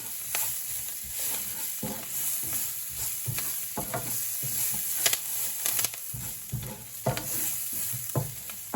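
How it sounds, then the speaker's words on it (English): Vegetables sautéing in a pan for a jerk mushroom bulgur stir fry, a steady close sizzle with repeated scraping and stirring strokes throughout. "So just going to give these a couple of minutes in here just to saute them."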